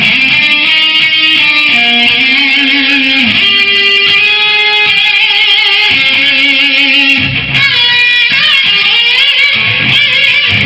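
A guitar lead riff rips by fast, a steady stream of quick notes and slides played loud and close with no talking.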